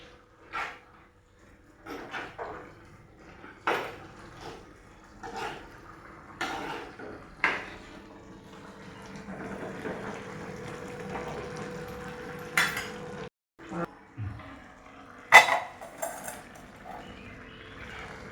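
Spoon stirring pumpkin olan, a Kerala curry, in a pot after a spoonful of raw coconut oil and curry leaves go in, giving scattered metallic clinks and scrapes close by, with soft bubbling between them and no talk.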